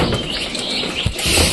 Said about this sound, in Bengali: এই দেখো এখানে কবুতর আছে সব।